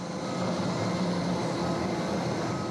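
A low-cost airline's airplane departs, heard as a steady, moderate jet engine roar and broadband rush, continuous and even throughout with no voices.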